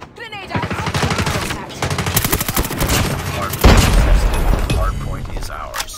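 Call of Duty Mobile firefight with rapid, loud bursts of gunfire and a heavy grenade blast midway, dense and continuous, with voices shouting over it.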